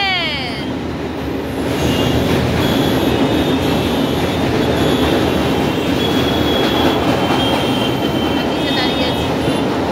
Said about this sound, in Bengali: এটা দিয়ে ওপর দিয়ে যাচ্ছে ট্রেন